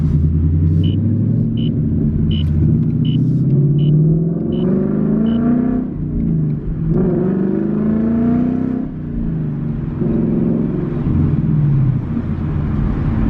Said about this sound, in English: We can hear it rev up pretty well up here.